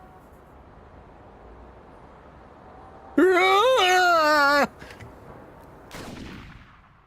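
A single gunshot from the video game 428 Shibuya Scramble: one short, sharp burst that follows a sustained wavering tone and then fades out quickly.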